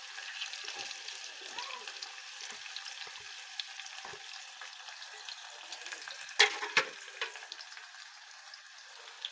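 Chopped onions tossed into hot oil for mutton fry give a steady, moderate sizzle, with a few sharper crackles and stirring clatters partway through.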